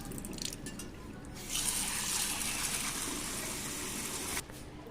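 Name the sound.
washing matar dal (split peas) in water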